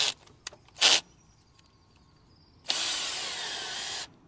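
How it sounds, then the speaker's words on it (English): A power drill in drill mode drives a jockey leg on a heavy caravan, a brief whirr followed by a longer steady buzzing run of about a second and a half, close and loud. "Now, with the real heavy vans, we may need to go straight onto our drill mode."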